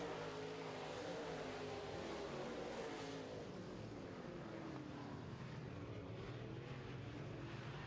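Modified race cars lap a dirt track during heat races, their engines a continuous distant roar that rises and falls as they run down the back straight, heard faintly with no voices.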